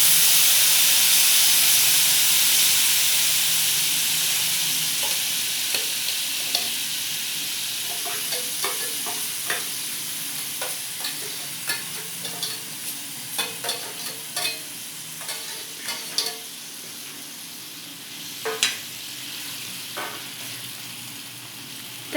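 Moth bean sprouts hit a hot pan and sizzle with a loud steamy hiss that slowly fades, followed by repeated scraping stirs and small clicks, close up, without talk.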